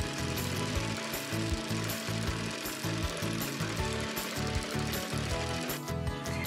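A Cool Maker toy sewing machine stitches a stuffed pillow, giving a steady, close, rhythmic mechanical chatter of rapid ratcheting bursts that runs almost without pause.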